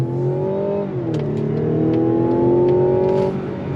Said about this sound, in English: we're gonna go on throttle to show you how the acceleration is in this SUV